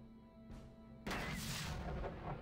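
A mech's gun fires in the video game Heavy Gear, one loud booming blast at about the one-second mark that rolls into a sustained rumble over a droning background hum.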